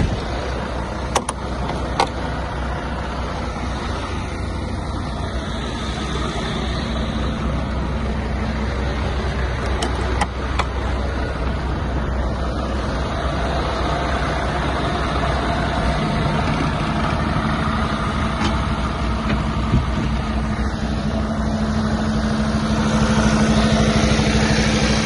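A truck engine runs steadily at idle through a parked air brake inspection with the truck in neutral, a low continuous rumble with faint occasional clicks and no speech.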